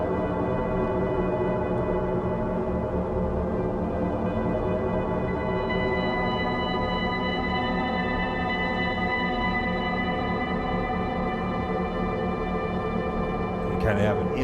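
A dark drone synth patch from the Array Sounds Double Scoop library, held with a freeze reverb, gives a dense, steady sustained tone with layered harmonics that stays loud and even for the whole stretch and thins slightly near the end.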